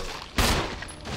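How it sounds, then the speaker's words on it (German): A single loud gunshot rings out as a zombie is fired upon in the video game Resident Evil, a sharp burst that quickly decays into the game's low ambience. "Da reicht ein Schuss."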